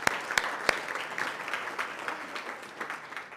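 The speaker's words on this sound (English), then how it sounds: "All right, thank you. Big round of applause." Brief applause from a conference audience at an annual health-data meeting, a few sharp claps at first settling into a moderate, fairly distant patter.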